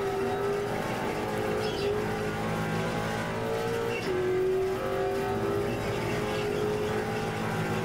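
Race car engines lapping Phillip Island in the iRacing sim, a continuous loud engine drone with shifting pitch as revs rise and fall through gear changes, other cars blending in close.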